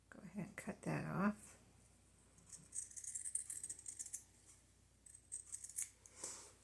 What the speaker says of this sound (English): Go ahead and cut that off.